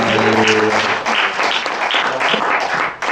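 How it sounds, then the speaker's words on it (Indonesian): A church congregation at an IFGF New York service applauds for Stacy, loud dense clapping throughout, with a brief dip near the end. "kita tepuk tangan dulu untuk Stacy."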